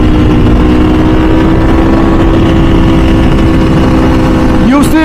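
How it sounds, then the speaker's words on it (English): An MV Agusta motorcycle's race exhaust roars loud and close in a steady, continuous drone, with a rising whine of revs near the end and wind buffeting over it. "when you switch to the MV, the noise or the sound of the MV, the exhaust is so much more louder"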